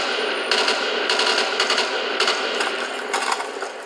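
Bursts of automatic gunfire from Call of Duty: Black Ops on the Berlin Wall map, several rapid rattling volleys spaced over a few seconds above a steady background of game ambience.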